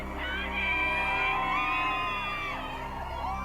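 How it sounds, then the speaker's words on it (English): Crowd of Johnny Depp fans gathered outside the Virginia courthouse, cheering and whooping together in a sustained, fairly loud outdoor roar with rising and falling shouted voices. "Outside the Virginia courthouse, Depp fans gather to cheer on their hero."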